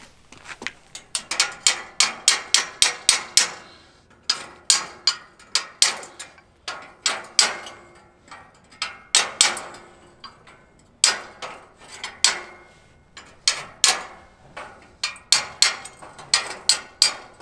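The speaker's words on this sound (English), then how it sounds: "So I'll get a hammer and a chisel or like a pry bar real quick and just knock that off." Rapid metallic hammer-and-chisel knocking slag off metal on a plasma cutting table, sharp clinks in quick bursts and clusters with brief pauses, fairly close and crisp, no speech.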